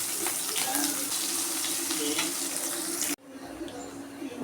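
Onion, slit green chillies and curry leaves sauté in hot oil with popped mustard seeds for a cabbage poriyal. A loud, steady sizzle hisses for about three seconds, then cuts off abruptly to a quieter simmer.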